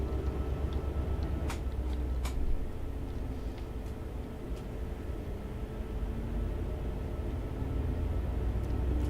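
A British Rail Class 68 diesel locomotive in a train simulator game hauling a train from Mossend to Carlisle at around 25 mph, a steady low rumble and broadband running noise with a few faint clicks, no talk.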